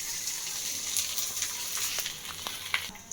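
Papad (poppadom) fries in hot oil in a pan with a steady close crackling sizzle and a few sharper pops and bubbling bursts. No one talks.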